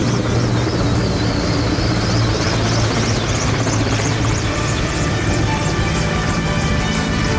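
Indian Air Force aircraft flying over hospitals, a loud continuous engine and rotor roar with a throbbing, pulsing texture held steady throughout, close overhead with no speech.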